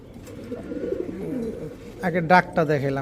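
A Giribaz high-flyer pigeon coos in a few short, throaty bursts close by, following a stretch of someone talking.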